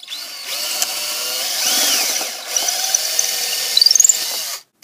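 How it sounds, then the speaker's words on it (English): A power drill whirs loudly and close as it bores a hole for a homemade electric scooter, its motor pitch rising and dipping, then briefly stalls and revs before stopping. "Then you have to drill a hole like this."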